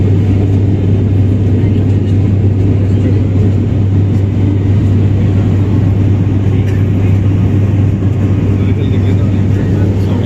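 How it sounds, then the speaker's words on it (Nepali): A loud, constant engine rumble with a low droning hum inside an airplane cabin shaking in cloud turbulence continues without break. "यो घचाघुचु गरिरहेको छ पुरै प्लेन यो बादलले गर्दाखेरि"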